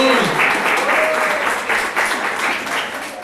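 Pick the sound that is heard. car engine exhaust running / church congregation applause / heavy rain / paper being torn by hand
church congregation applause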